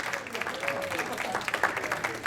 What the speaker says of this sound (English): Keep clapping. Clap, clap, clap for Dan, for all the comedians here tonight.